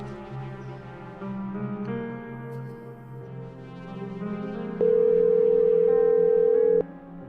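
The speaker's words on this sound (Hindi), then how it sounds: "रिंग जा रही है।" A phone call rings out through the handset, a steady tone that holds for about two seconds and stops, set against soft dramatic background music in a Pakistani TV drama scene.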